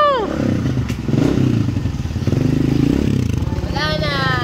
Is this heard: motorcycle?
yes